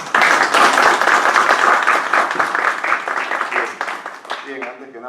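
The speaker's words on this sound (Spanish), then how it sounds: "Un fuerte aplauso, por favor." Loud applause from an audience at a book conference fills the room, dense steady clapping that begins at once and thins slightly toward the end.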